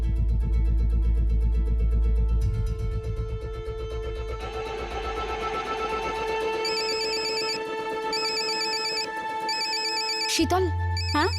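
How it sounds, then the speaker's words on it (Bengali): A telephone rings with a repeating electronic ringtone in a Bengali crime drama scene. It sounds in bursts over a steady low hum and background music, and a short tone change comes near the end. "শীতল, হ্যাঁ আমার ফোনটা একটু ধর না।"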